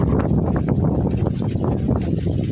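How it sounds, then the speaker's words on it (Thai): Strong wind gusting over a mountain cliff edge at Khao Phraya Doen Thong, a constant loud low rumble of wind buffeting the microphone, with no talking. "จะไม่แนะนำไปยืนถ่ายตรงมุมหน้าผานะครับเพราะลมมันแรง"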